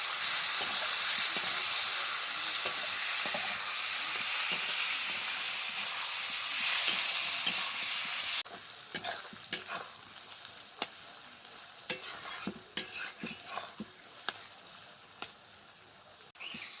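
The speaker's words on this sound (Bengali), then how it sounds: "মাছের তেল দিয়ে বেশ খানিকক্ষণ টাইম নিয়ে কিন্তু ভাজতে হবে" Katla fish fat and liver frying in a pan with brinjal, a loud steady sizzle that drops to a quieter crackle halfway through, then irregular spatula taps and scrapes as it is stirred.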